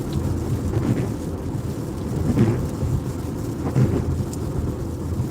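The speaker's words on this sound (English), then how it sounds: "Now it looks like the rain's slowing down a little bit." Steady rain pours outside with a broad low rumble of thunder rolling underneath, continuous and fairly loud, with a few swells in intensity and no voices.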